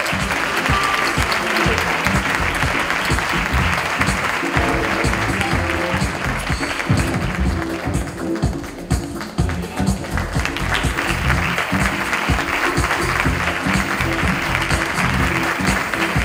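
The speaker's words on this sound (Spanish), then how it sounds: "Recibamos con un fuerte aplauso a Jaime Acevedo." Sustained, loud applause fills the hall at an award ceremony as a recipient is welcomed, continuous clapping with a brief dip midway before it swells again.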